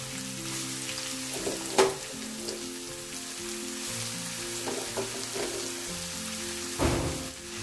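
About half a kilo of cut onions frying in oil for chicken biryani masala, a constant crackling sizzle with a low tonal hum beneath and a few louder bursts as the pieces hit and shift.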